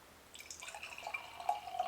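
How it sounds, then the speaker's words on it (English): Dark stout from Southern Grist Brewing is poured into a glass, a quiet close trickle and gurgle that builds with rising liquid tones as the glass fills, with no voices. "Pouring that dark cola just like a lot of the milk stouts do."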